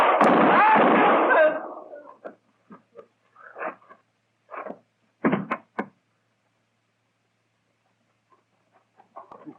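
Gunfire in an old-time Western radio drama shootout, opening with a loud, sustained burst of shots and clamour, followed by a scatter of sharper reports and pops at irregular intervals that trail off into near silence.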